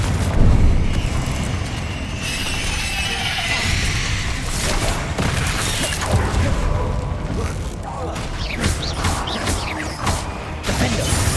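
Fiery spell blasts burst repeatedly in Hogwarts Legacy combat, loud cracking booms and crackling impacts layered over continuous battle noise with a voice speaking throughout.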